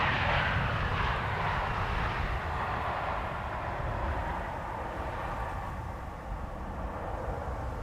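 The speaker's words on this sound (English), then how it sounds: "And here is the 737-900." A KLM Boeing 737-900 at Amsterdam Schiphol Airport produces a steady, broad jet engine roar that stays loud and even for several seconds and eases off slightly toward the end, with no talking.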